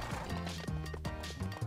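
Horse hooves clip-clop in a steady galloping rhythm while riding in the Wii game Go Vacation, mixed with game music and sound effects.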